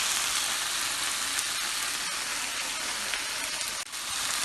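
Onions and vegetables frying in a hot pan, a steady dense sizzle that fills the whole stretch with only a brief dip near the end, no voices over it.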